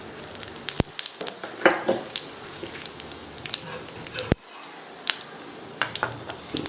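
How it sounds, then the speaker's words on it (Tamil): Seeds sizzle in hot oil close by, a continuous frying hiss punctuated by sharp, irregular pops and crackles. "எண்ணெய் நல்லா காஞ்சிருச்சு இப்போ நம்ம அதில் சீரகம் சேர்த்துக்கலாம்"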